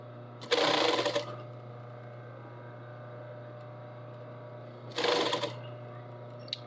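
A sewing machine stitches a long seam in two quick bursts of rapid, buzzing motor noise close by, separated by a quiet stretch with a low steady hum.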